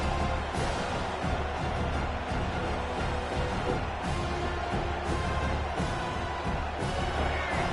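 Simulated stadium crowd from Madden 26 football game: a dense, continuous roar of many voices, loud and sustained, rising in brief swells over a constant rumbling bed.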